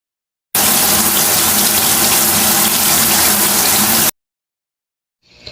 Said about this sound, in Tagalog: una niyang ginawa ay maligo